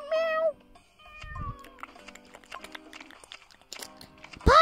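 House cats meowing indoors, two loud close meows, one at the start and one at the end, with quieter rustling, brief thumps and faint voices in between.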